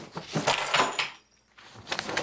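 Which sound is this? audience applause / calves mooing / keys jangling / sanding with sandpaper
keys jangling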